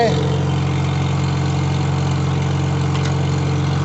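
The engine of an IH 120 mower runs at a steady, loud, close idle, a continuous low drone that holds even throughout with no voices.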